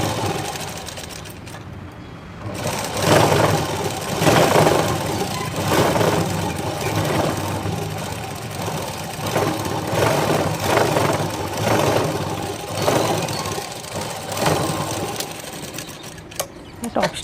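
A sewing machine stitches a topstitch along the waistband of a blouse, its motor running in a steady mechanical whir with short pauses, while a voice talks over part of it.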